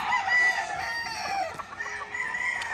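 A gamecock rooster crows in a Puerto Rican gamefowl yard, a bright harmonic call stretched across the clip over steady farmyard background noise, with no talking.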